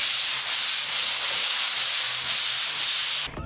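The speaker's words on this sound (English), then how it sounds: "Yeah, sanding, the worst of all construction jobs I've done." Continuous hissing scrape of sanding dried drywall mud during a bedroom renovation, steady close strokes with slight rhythmic pulses, then an abrupt stop at the end.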